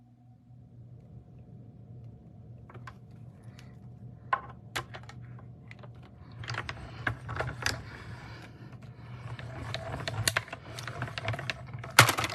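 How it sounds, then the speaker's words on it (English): A mini Stampin' Cut and Emboss die-cutting machine cutting out a Dracula paper shape, a low steady mechanical rumble with scattered sharp clicks and rattles, faint at first and growing busier. "I love how handy these mini Stampin' Cut and Emboss machines are."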